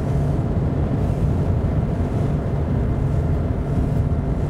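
A Suzuki DF100B outboard engine drives a Focchi 620 boat at 25 knots, giving a steady, loud broadband drone with a low hum and wind rush that stays constant throughout.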